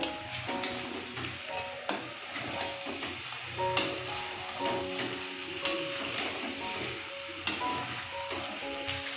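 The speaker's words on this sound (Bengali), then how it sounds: "আর দিয়ে দেবো ভেজে রাখা আলু সব কিছুকে আবারও ভালোভাবে মিশিয়ে নেব মশলার সাথে" Fried potatoes being stirred into spices in a pan for a village-style desi chicken curry, with a steady sizzle and periodic scraping knocks of the spatula, close and moderately loud, no talking.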